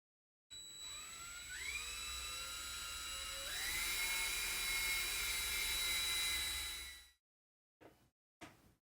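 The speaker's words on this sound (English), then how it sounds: "I can now go ahead and drill into the posts and get those ready to be tapped" A small power drill whines steadily for several seconds while drilling into small metal posts on a vintage die-cast toy tow truck, its pitch climbing twice as it bites in, then stops, followed by two brief scraping bursts.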